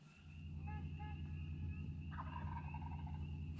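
Wild turkeys gobble outdoors at night beside water during a catfishing trip, several rattling calls rising over a steady, dense chorus of frogs and other night creatures, moderately loud and continuous with no talk.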